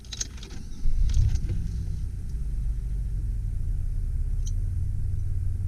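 A 2004 Pontiac Montana cargo van engine starting up, a brief cranking whir followed by a steady low idle rumble that holds close and even.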